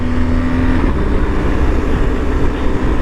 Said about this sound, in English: that back tire was spinning